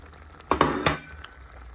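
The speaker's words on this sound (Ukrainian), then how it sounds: "Ось так смажиться наш соус" Sizzling sauce with carrot and onion frying in a pan, with a few louder bursts of crackle and stirring, close by, then settling to a low hiss.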